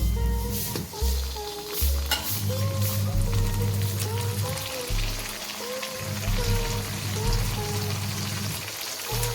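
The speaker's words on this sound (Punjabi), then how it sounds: "ਹੁਣ ਅਸੀਂ ਇਹਦੇ ਵਿੱਚ ਸਾਗ ਐਡ ਕਰਦੇ ਹਾਂ ਜੀ" Mustard greens dropped into a hot fenugreek tempering for Punjabi sarson da saag give a steady close sizzle and hiss throughout, with stirring scrapes, a low hum underneath and brief faint voices.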